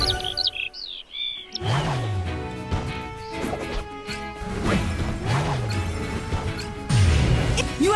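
Chirps from a bird in the PAW Patrol Rescue World mobile game, repeated short calls set against busy game music and crashing impact effects.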